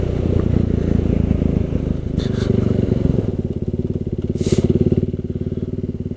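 A KTM Duke 390 single-cylinder motorcycle being ridden through town, its engine a loud, close, steady thrum that settles into a rhythmic throbbing pulse as speed eases, with brief rushes of wind noise.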